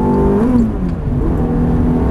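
A Ferrari F430 pulls hard on a racetrack, its engine note droning steadily and rising slightly as throttle is fed in, loud and close from inside the car with no voices.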